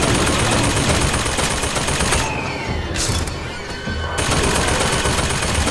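Dense, loud gunfire in the video game Bioshock Infinite, a rapid fusillade of shots running almost continuously, with a brief dip midway before the shooting resumes.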